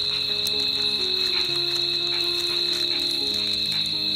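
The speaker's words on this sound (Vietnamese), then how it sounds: "Chỗ này thật sự rất là nhiều con ếch." Many forest frogs croak in a dense chorus at a muddy, swampy spot, layered over a constant high insect drone, with overlapping calls near and farther off.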